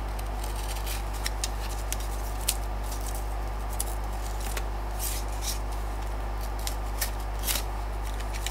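Scissors snip out a paper sculpture template piece, producing soft, close, irregular crisp cuts and rustles over a low steady hum.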